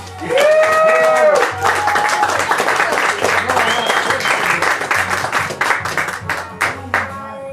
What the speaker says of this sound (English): Please give it up for Jeremy Cash